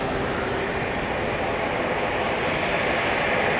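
A Jetstar Airbus A320ceo airliner passes at Auckland International Airport, a steady broadband engine roar held at an even, moderate level for a few seconds with no voices.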